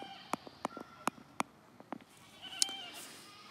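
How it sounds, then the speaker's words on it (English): Goats bleat in a neighbor's yard, a series of short, sharp, fairly faint calls in irregular rhythm at a distance, alone without talk. "Those are the goats in my neighbor's yard."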